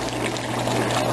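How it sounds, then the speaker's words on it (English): Water pours into a pot of Jamaican curry chicken made with breast meat, a brief close, steady splashing gush. "add little water"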